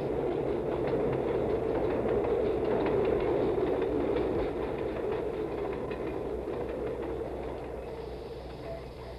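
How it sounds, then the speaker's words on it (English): Southern Pacific freight train rolling past, a steady loud rumble with rhythmic wheel clatter on the rails that gradually fades as the cars go by. "It's just a freight train."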